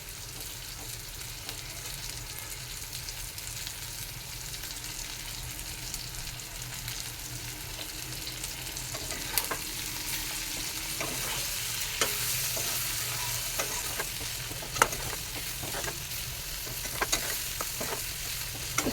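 Chicken masala being stirred into chicken frying in a pan, with a steady sizzle and occasional spoon scrapes and knocks, close and continuous.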